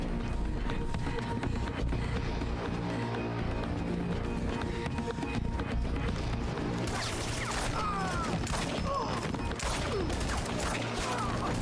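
Gunfire in the video game Quantum Break rattles alongside running footsteps and action, with sharper shots and impact bursts crowding in during the second half over a constant loud game mix.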